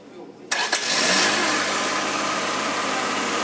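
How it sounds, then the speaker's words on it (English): A car engine cranks and fires into life with a sharp burst, then settles into a steady, loud idle. "you need to start the car."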